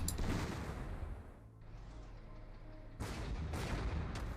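Artillery fire in the Panzer Corps 2 strategy game: a heavy rumbling barrage that eases briefly, then several sharp booming shots in quick succession.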